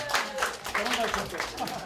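Coworkers applaud at an office praise card event, their clapping steady and close under a narrator's voice.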